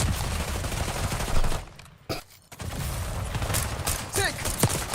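Gunfire from Call of Duty Black Ops 6 in dense, rapid automatic bursts that fill the clip, dropping out briefly near the middle before the firing resumes just as loud.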